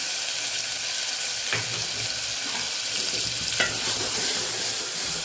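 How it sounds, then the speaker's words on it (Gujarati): A steady sizzle of tomatoes sautéing in a pan with turmeric and green chillies, with a couple of soft stirring scrapes; no voices. "ટમેટાને સરસ આપણે સાતળી લેવાના છે।"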